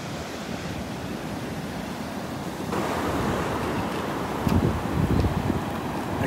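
Ocean surf rolls onto a Gulf beach at Delnor-Wiggins as the tide comes in, a steady broad wash of breaking waves that swells louder midway, with wind buffeting the microphone.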